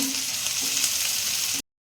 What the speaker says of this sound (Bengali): পেঁয়াজটা দেখুন ভাজা হয়ে গেছে